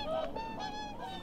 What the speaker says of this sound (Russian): Это даурский журавль, которого я сфотографировал.